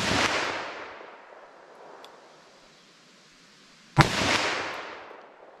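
Two loud, sharp .357 Magnum gunshots into ballistic gel, fired with flashy ammunition, ring out about four seconds apart, each followed by a long, fading echo.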